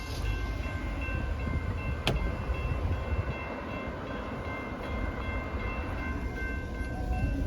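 A train passing by the Lyons Highway crossing, a steady, loud rumble that fills the whole stretch, with a brief sharp clank near the start and no voices.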